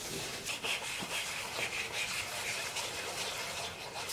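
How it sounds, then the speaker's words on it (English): Wet sandpaper rubbed in circular motions over painted plastic gives a steady, soft, close scrubbing hiss with gentle rhythmic swells and no voices. "we're going to start sanding, and we want to sand in a circular motion"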